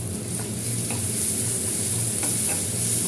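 Ginger garlic paste sautés in a glass pan with a continuous bright sizzle and occasional stirring clicks, close and loud, with no talk.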